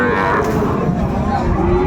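At a busy cattle market in Dinajpur, a cow or bull lows loudly and close amid the continuous murmur of the crowd.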